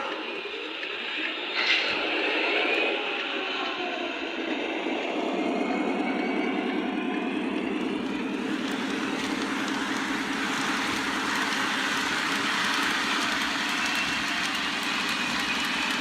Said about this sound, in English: I'm going to run the train one more time here this afternoon